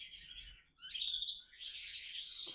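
A Belgian canary chirps in a short clip: a few bright, high tweets come in two quick bursts, close and clear over quiet background.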